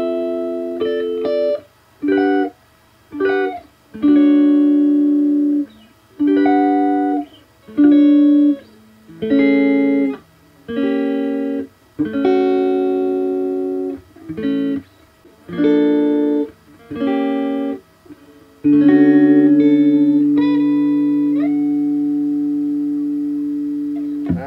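A retro Teisco electric guitar, restored and modified, plays clean chords and single notes through a Peavey keyboard amp with reverb, in separate plucked bursts with a long ringing final chord.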